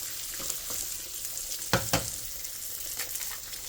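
An egg fries in a hot pan for a breakfast sandwich, giving a steady close sizzle with a couple of louder crackling pops, and no talk.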